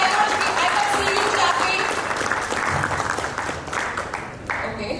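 Conference audience at an entrepreneurship conclave claps, a continuous wash of applause from a crowd in a hall that gradually thins toward the end.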